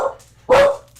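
Dogs bark, one loud sharp bark close by after a softer earlier yelp, brief and alone.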